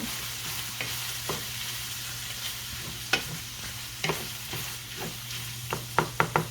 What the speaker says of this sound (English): we're going to add in bacon bits and get those to crisp up a little bit